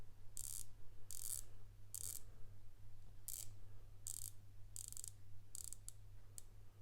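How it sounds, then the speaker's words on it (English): A Pagani Design PD-1662 Master 2 GMT homage watch has its bezel turned in several separate runs of crisp, tight ratchet clicks, close and quiet over a steady low hum. "And one more time, let's hear the bezel."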